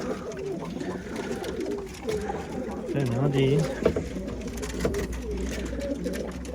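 Pigeons in a coop coo in low, rolling calls close by while someone talks over them, with a steady background rumble throughout.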